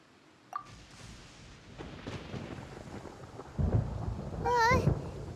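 Thunder in the video game Genshin Impact: a low rumbling storm bed over rain, building louder toward the end with a brief whooshing tonal flourish near the close.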